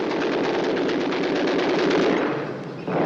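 Rapid, continuous machine gun fire, loud and close, rattling in a dense unbroken burst for nearly three seconds before easing off, with no talk over it.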